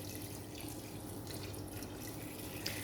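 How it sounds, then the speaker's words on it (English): Warm water poured into a cooking pot while making egusi soup, a steady close trickling and splashing that runs unbroken throughout at moderate level with no talk. "I'm just going to pour the water in there."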